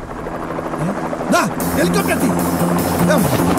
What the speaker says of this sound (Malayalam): ഹെലികോപ്റ്റർ കൊണ്ട് എത്തിയിട്ടുണ്ട്